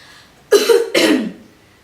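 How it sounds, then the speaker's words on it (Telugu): A person coughs twice in quick succession, close and loud, the two harsh bursts standing alone against a quiet room. "దగ్గుతున్నాను కదా"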